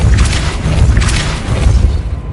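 A heavy, rumbling magical blast from the Depulso spell in Hogwarts Legacy, a loud booming whoosh with a low rolling thud that carries for about two seconds.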